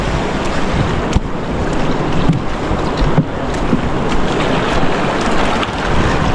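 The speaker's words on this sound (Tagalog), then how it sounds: "Ayun na yung bangka namin sakyan. Yung bangka ni Tay Tatsuki maliit." A small wooden fishing boat (bangka) rides on open water at sea, with a steady loud rush of waves, wind and hull wash filling the whole clip, no voices.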